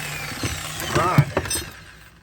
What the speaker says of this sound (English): I'm drilling it sideways.